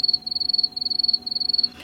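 Crickets chirp in a sound effect, a shrill, pulsing trill that comes in regular bursts of rapid pulses, close and clear with nothing else behind it.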